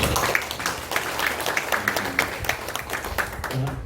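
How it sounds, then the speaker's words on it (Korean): A congregation claps steadily for several seconds during a church Sunday service, a dense patter of hands at moderate loudness with some voices mixed in. "사랑의 박수 한번 할까요?"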